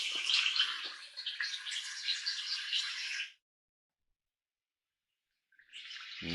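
Woodlands ambience from a tinnitus relief sound app, a steady bright wash of birdsong and rustling texture that plays for a few seconds, cuts to silence, then resumes.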